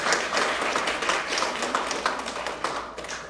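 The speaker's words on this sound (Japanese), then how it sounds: "拍手を持って歓迎しましょうか。" A church congregation claps to welcome a returning member during a worship service. The dense, steady applause runs throughout with rapid overlapping claps and no talking over it.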